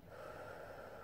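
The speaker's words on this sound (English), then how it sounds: "Let's take a lovely deep breath together" A single slow, deep breath released through the nose during a meditation, a soft airy rush close to the microphone that lasts about a second.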